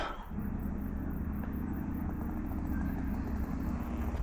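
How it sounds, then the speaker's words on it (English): A car approaches along a road, heard as a steady, fairly loud engine and tyre rumble that holds throughout with no voices. "I can hear a car coming."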